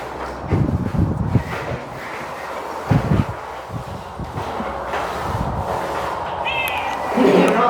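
A cat meows a few times near the end, close by, against a background of people talking and household noise.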